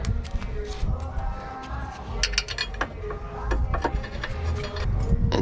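Bolts being screwed into a Hasport battery bracket on a Honda CRX Si, giving a run of small metallic clicks, ratcheting and knocks close by, uneven and steady across the moment.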